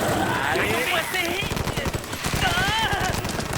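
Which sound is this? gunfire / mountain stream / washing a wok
gunfire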